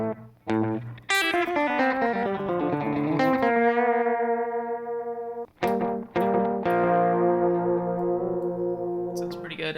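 Country-style electric guitar played through a Kemper profiler with delay and no reverb, clean bright single notes and bends ringing out with repeating echoes, loud and alone.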